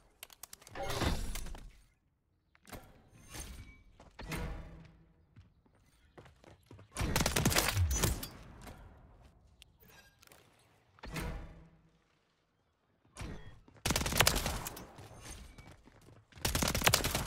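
WSP 9 submachine gun fired in Modern Warfare 3, several loud bursts of rapid shots broken by short pauses, with game sounds in between and no talk.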